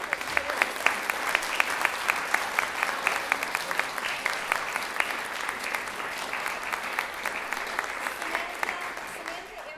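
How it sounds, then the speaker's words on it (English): A concert audience at a college music department piano recital claps steadily for graduating music students, a dense, even patter of many hands that holds at a moderate level for about ten seconds. "we'll applaud for them once just because they're wonderful students"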